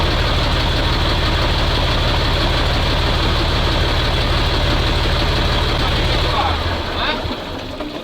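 A MAZ truck engine idles after 15 years in storage at a military base, a loud, steady, rough diesel rumble close by that runs unbroken before dropping away near the end as it is shut off.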